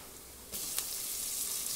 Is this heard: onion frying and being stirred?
yes